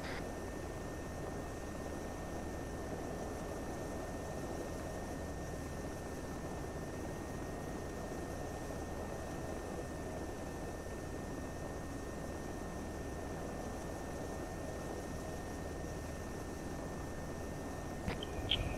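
A military helicopter lifting off during a special operations flight produces a constant, dense rotor and turbine roar that holds steady throughout, ending with a brief faint clatter.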